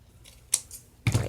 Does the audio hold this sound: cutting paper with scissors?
yes